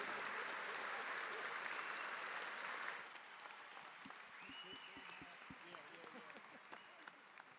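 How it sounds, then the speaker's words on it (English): Arena audience at a horse-training competition applauds in a broad, steady wash of clapping for about three seconds, then it dies down and someone speaks over faint crowd noise. "would you give them a round of applause"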